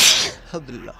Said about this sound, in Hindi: एक और छींक आ गई।